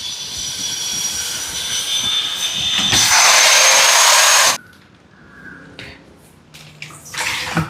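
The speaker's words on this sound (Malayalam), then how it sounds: "ഞാനൊന്ന് കാണിച്ചു തരാം അത് പോളിഷ് ചെയ്യാനായിട്ട്." A machine polisher works a white quartz kitchen countertop in a new home, giving a loud, steady roaring whine that stops abruptly partway through, followed by quieter, scattered workshop sounds.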